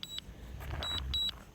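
Mavic Mini drone app giving faint, short repeated beeps during return to home, a few quick high pips over a soft background hum.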